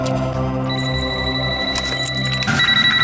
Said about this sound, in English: Oh, I'm getting a phone call on the Wiimote.